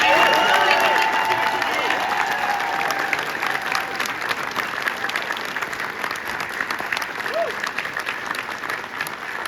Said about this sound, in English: Let's give them a big round of applause today.